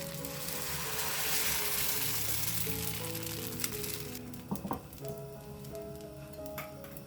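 Poha batter is ladled onto a hot pan and sizzles in a steady, close hiss that fades slightly, followed by a few clinks and scrapes as the pan is turned.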